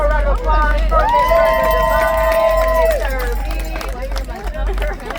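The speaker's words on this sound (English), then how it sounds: "one more round of applause for Miss" Outdoor crowd at a classic car show cheering and whooping through a pageant announcement, loud and continuous with a rumbling low hum underneath and voices shouting over the noise.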